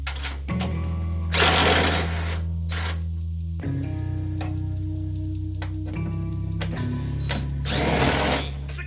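A power tool whirs steadily as it takes a bolt off the strut tower bar of a Toyota MR2 Spyder, its pitch shifting in steps, with two louder rattling bursts of the tool working against the bolt.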